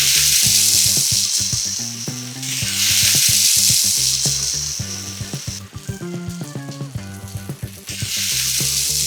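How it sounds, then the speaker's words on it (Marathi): Chicken malai tikka sizzles loudly in hot ghee, a dense crackling hiss that swells and fades in waves, with scattered pops and light clinks close by. "असा चरचर आवाज आला पाहिजे तरच तो टिक्का आहे असं समजायचं"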